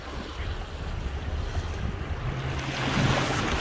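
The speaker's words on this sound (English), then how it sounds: "Pretty big swells." Large ocean swells and waves wash against and around a sailboat, a steady rushing surge mixed with wind buffeting the microphone, building slightly louder toward the end.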